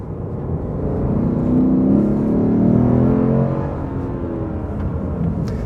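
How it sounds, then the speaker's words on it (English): A 2020 Lexus RC F Track Edition's engine rumbles deeply as the throttle is blipped on a downshift, with the revs swelling and easing back while the car runs on track. "Awesome blipping of the throttle on the downshift."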